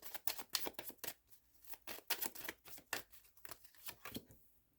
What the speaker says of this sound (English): These cards are so hard to shuffle for me.